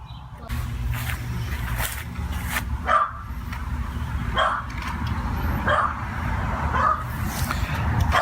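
Dog barking at a remote control car outdoors, several sharp barks spaced a second or two apart over a low background hum, with no talking.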